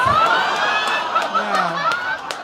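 A live comedy club audience cheers and applauds for the comedian's grandmother, with a crowd roar, whoops and scattered claps rising together at moderate loudness.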